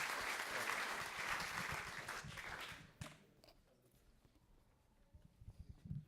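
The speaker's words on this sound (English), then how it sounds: "you can clap again" Audience applause at a React developer meetup in Amsterdam, a fairly quiet burst of many hands clapping that fades after about three seconds, leaving scattered claps and room noise.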